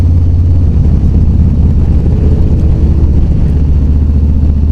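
A Harley-Davidson Road Glide touring motorcycle engine runs steadily at cruising speed on a night ride, its loud, continuous low rumble filling the whole stretch alone with no pauses.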